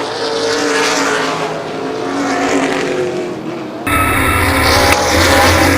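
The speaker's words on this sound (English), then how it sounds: "This time by, the white flag comes out. 1 lap to go for Grant Quinlan." Stock race cars on a short oval at Baer Field Speedway roar loudly on the final lap of an ARCA/CRA Super Series race, engines rising and falling as they pass, with a sudden closer surge of engine noise near the end.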